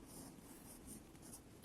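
Pen or pencil scratching out the letter C on paper during an indoor family game, a steady soft scribbling texture at close range with no talk.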